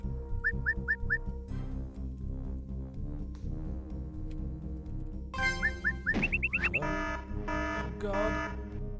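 Alarm tripped during a diamond heist in a video game, repeated chirping electronic beeps in short bursts over game music and sound effects, with someone talking over part of it.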